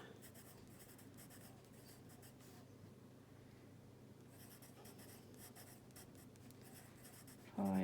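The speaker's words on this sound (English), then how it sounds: "So I've got a pencil here just to make some notes." A pencil scratches notes onto watercolour paper, a faint, close, dry scraping in short strokes and pauses, ending with a sudden louder bump.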